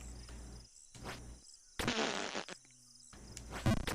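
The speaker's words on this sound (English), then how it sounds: "Plays a big fart noise from Maddie's sound pad" Fart noises fired from a sound pad, several brief buzzy bursts separated by gaps, with a longer, louder blast in the middle.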